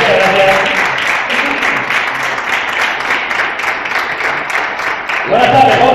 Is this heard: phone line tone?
no